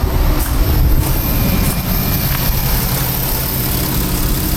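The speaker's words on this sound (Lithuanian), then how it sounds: "Variklis gražiai dirba" A Porsche engine idling, a loud, steady low rumble holding an even drone throughout, close by and with no voices.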